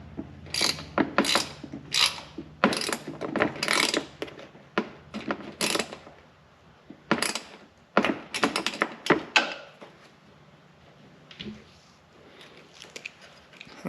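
Ratchet tightening the wing mirror nut on a 2022 Can-Am Commander, bursts of rapid clicking in uneven runs with short pauses, close and clear, ending in quieter fiddling.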